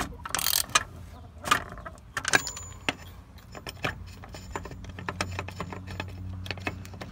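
A ratchet and socket tighten a fuel filter on a 6.7 Powerstroke diesel truck engine, with a series of sharp close clicks and metallic clatters spread unevenly across a quiet background.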